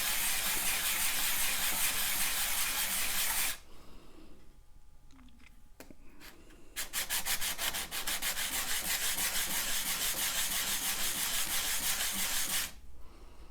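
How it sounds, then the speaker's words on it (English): Metal signet ring rubbed flat on 320 grit sandpaper, a loud, steady back-and-forth rasping that stops briefly midway, then resumes as a rapid, rhythmic scrubbing to the end. "I'm using a 320 grit sandpaper right now."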